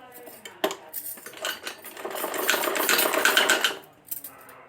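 Sewing machine stitching underwear fabric, a fast mechanical rattle that builds into a continuous whirring run of a few seconds before stopping, with small clicks at the start and end, close and fairly loud.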